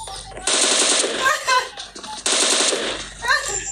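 DP-28 machine gun in PUBG Mobile, firing two long loud rapid bursts with brief gaps, echoing tails and faint background game sounds.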